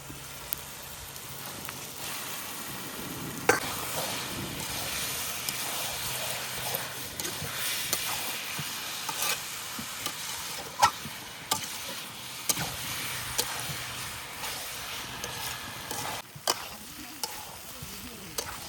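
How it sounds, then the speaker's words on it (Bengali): Meat sizzling as it is added to mustard-oil masala and stirred in a pan at an outdoor forest cookout, a steady frying hiss with scattered clinks of the spoon throughout. "আমার মশলা কষানো হয়ে গেছে আমি আমি মাংসটা দিয়ে দিচ্ছি"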